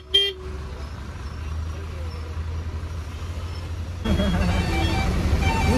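Road traffic congests a street in Salem, with a short car-horn toot at the start over a continuous rumble of engines that grows louder and busier toward the end.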